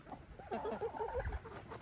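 Domestic farm hens cluck softly in a quick, uneven series, fairly faint and with no talking.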